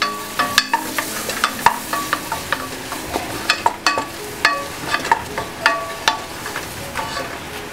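Flour cooking in melted butter in a pan, a low sizzle punctuated by a steady series of sharp utensil scrapes and taps against the pan, close and clear, with no talking.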